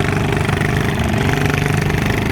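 A tractor engine runs at a steady idle with a continuous, rapid chugging rumble, loud and close, with no voices.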